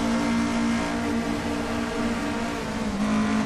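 Lada 2101 race car in Assetto Corsa, its engine droning at a steady, loud, fairly even pitch throughout with slight waver and no speech.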